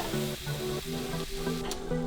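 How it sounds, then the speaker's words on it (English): Steaks sizzle on a Ninja Foodi Smart XL grill as a steady, close hiss, with a low humming tone running beneath it and no talking. "So steaks are on the grill."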